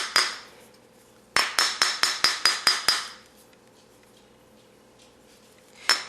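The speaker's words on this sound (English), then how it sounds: "I'm just going to take my hammer, and I'm going to start tapping this down gently" A hammer taps a wire bangle: one sharp metallic tap, a pause, then a quick run of seven even, ringing taps, and after a quiet stretch one last tap.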